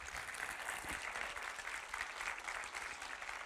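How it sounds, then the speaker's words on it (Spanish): Church congregation applauding during a Spanish-language sermon, a steady, dense wash of clapping filling the room at moderate level with no talk over it. "Denle un aplauso a nuestro Dios."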